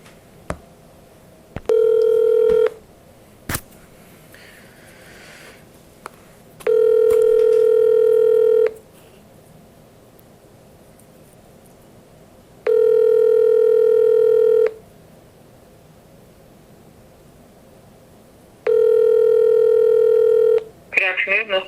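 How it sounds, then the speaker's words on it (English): A landline telephone for a police phone interview produces a steady dial tone, then repeated long ringback tones at regular intervals with brief clicks between them. Faint room noise sits underneath. "I am going to be conducting a phone interview with Evelyn White"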